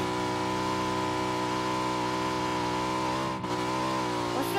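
A vehicle drives in the battle-royale video game PUBG: a continuous, even engine hum with layered tonal harmonics, steady and fairly quiet, with no voices over it.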